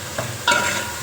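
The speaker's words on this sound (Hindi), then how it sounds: "जैसे हमारा मसाला भून रहा है" Masala spices with chilli, turmeric and ginger powder frying in a pan for chole, with a soft steady sizzle and a louder burst of frying and stirring midway through.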